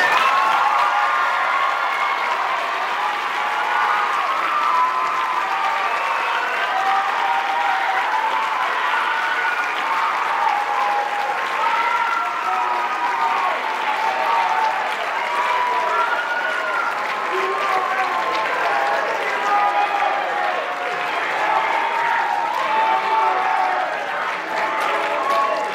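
Sustained applause and crowd noise at a high school senior show and awards night, a long, even wall of clapping with scattered cheers and overlapping voices through the whole stretch.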